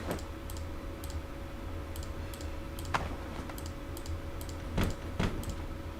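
Scattered keystrokes and clicks tap on a computer keyboard in short irregular bursts, with a few sharper, louder presses standing out over a steady low hum.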